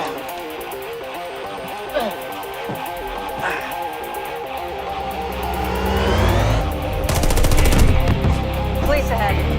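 Gunfire in a driving action scene, dense bursts under a loud roaring vehicle and engine noise that builds in the second half, with a voice speaking over it.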